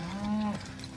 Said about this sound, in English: Cows a bit noisy.